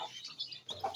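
Hens and chicks cluck softly at close range in a brief burst of short calls, fairly quiet, with no talking.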